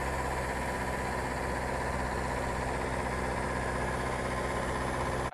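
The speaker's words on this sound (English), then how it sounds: "It's just a tractor sound, no one talking." A tractor engine runs at a steady idle, a constant, loud, dense rumble with no pauses that cuts off abruptly at the end.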